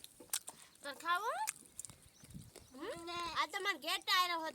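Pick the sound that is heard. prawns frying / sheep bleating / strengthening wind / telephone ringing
sheep bleating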